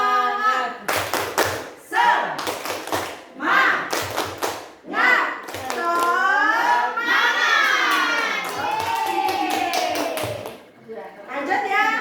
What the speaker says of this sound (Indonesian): Apakah perlu tepuk? Tepuk semangat ya.